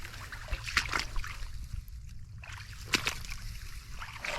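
A bicycle is pushed through a deep, cold stream, the water trickling and splashing steadily around the wheels and legs, with a few sharper sloshes standing out against the constant close running water.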